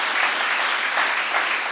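An audience at a motivational speech event in Tamil Nadu claps steadily, a dense, even wash of many hands with no voices on top.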